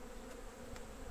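Honey bees buzz steadily around hive frames in a young split colony with capped brood, a continuous close insect hum filling the short moment with no talk.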